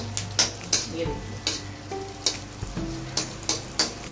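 Chopped dry dates roasting in ghee, a moderate sizzle punctuated by regular sharp clicks and taps of a spoon against the pan, roughly every half second.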